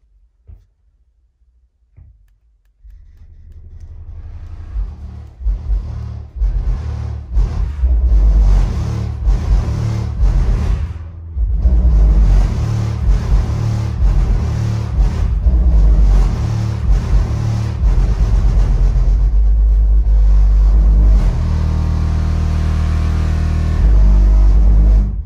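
A song plays through subwoofers driven by a Rockford Fosgate Power 1000 amplifier wired at 1 ohm, rising from near silence into loud, booming bass with steady heavy low-end pulses that continue throughout.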